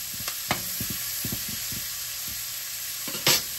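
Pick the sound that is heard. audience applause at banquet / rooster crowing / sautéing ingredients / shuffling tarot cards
sautéing ingredients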